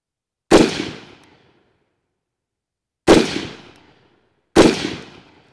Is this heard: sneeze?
no